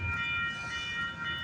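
A CPKC freight train rolls past at Galt, Mile Post 57, with a steady, loud rumble of cars and a faint high tonal ring from the rails, continuous throughout.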